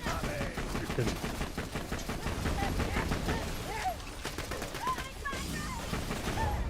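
Rapid automatic gunfire in the video game Borderlands 2: dense, continuous bursts of shots rattling without a break amid other busy game effects.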